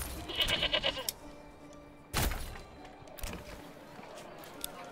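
Goats bleat in a medieval village in the strategy game Manor Lords, a short wavering bleat near the start followed by faint farmyard and ambient sounds, fairly quiet overall.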